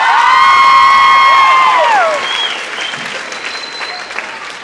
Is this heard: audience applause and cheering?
yes